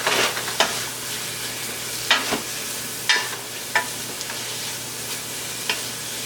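Garlic frying in a pan for vegan chow mein, a soft continuous sizzle broken by several scraping stirs at irregular intervals, close and with no speech.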